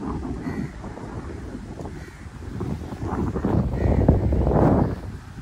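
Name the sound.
cool breeze blowing by a lake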